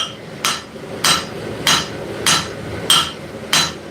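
A hammer striking an anvil during forging: six evenly spaced, loud, sharp metallic blows about half a second apart, each ringing briefly, with no voices.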